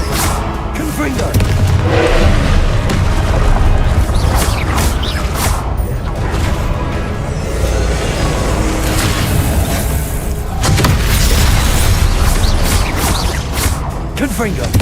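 Repeated Confringo fire-spell blasts in Hogwarts Legacy, booming thuds and whooshes in a busy, continuous mix of game combat with a voice calling out over it.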